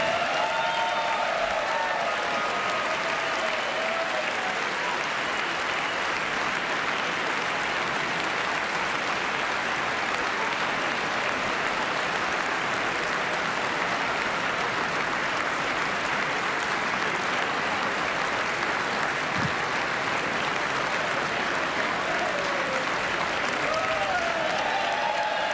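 Sustained loud applause fills a legislative chamber as the First Lady enters during a presidential address to Congress, an even wall of clapping from a large crowd with a faint voice briefly audible early on.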